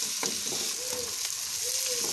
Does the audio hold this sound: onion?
yes